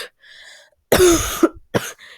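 Several sharp coughs burst out close to the microphone, two heavy ones in quick succession and another shortly after, with brief breathy sounds between.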